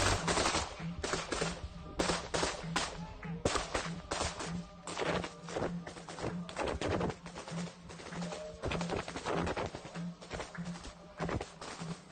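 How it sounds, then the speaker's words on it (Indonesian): Rapid bursts of gunfire crack repeatedly and densely over a constant low rumble, loud and sustained throughout, from Akhmat special forces fighting Ukrainian troops. "Tembakan demi tembakan diluncurkan membuat tentara Ukraina kewalahan dalam merespon serangan"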